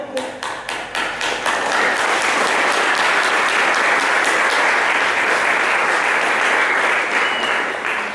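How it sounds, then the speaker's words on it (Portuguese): A church congregation breaks into applause, a few separate claps quickly swelling into loud, dense clapping from the whole crowd that holds steady throughout. "Aplauda aí."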